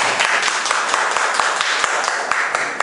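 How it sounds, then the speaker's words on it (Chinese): Audience applause welcoming the next speaker at a self-introduction meetup in Kaohsiung, with steady clapping that holds for about three seconds and some voices mixed in. "我们掌声欢迎建成"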